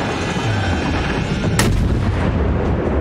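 Warship artillery fire in the naval combat video game World of Warships, a loud sharp broadband blast about halfway through over a steady dense rumble of battle noise.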